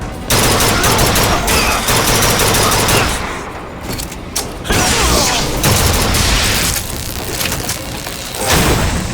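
Gunfire from Bioshock Infinite, loud sustained bursts of automatic fire and crackling impacts that pause briefly twice before resuming, with faint shouting voices mixed in.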